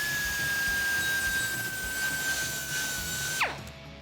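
A small high-speed power tool whines steadily as it deburrs the cut edges of exhaust piping, holding one pitch and then winding down abruptly at the end.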